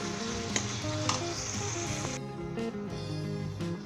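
Azeem chicken masala fries in oil in a pan, a dense continuous sizzle with stirring scrapes and a brief sharp clink, close and fairly loud without any talk.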